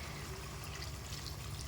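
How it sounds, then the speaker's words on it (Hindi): Water poured into a pot of browned mutton and spices while cooking nahari, a soft steady trickle and pour running throughout at low volume. "अब यहाँ पे इसमें मैं डाल दूँगी 2 से ढाई गिलास के करीब पानी"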